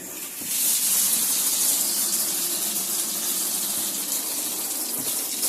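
Shower in a Coachman Pastiche 575/4 caravan runs to purge air from the water system, producing a loud, steady hissing spray that starts abruptly and continues throughout.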